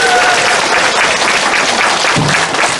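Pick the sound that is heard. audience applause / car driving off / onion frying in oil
audience applause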